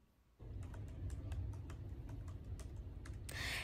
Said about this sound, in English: here's a boring clip of me typing